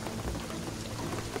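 Steady rain falling in Shadow of the Tomb Raider, a soft continuous hiss of drops on surfaces with low rumble beneath, fairly quiet and alone.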